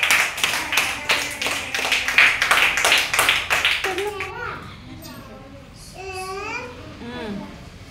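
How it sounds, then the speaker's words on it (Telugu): Anganwadi preschool children clap together in quick rhythmic bursts for about four seconds, loud and close, and then children's voices carry on chattering. "క్లాప్స్ కొట్టండి అందరూ సుశాంత్కి"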